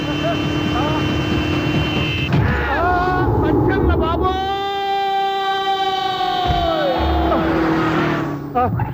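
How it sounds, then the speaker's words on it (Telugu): A loud, close siren wails, its pitch sweeping up and then gliding back down over a rumble of engine noise. "సైరన్నే కొట్టాడు. నేను కొట్టమన్నది హారను"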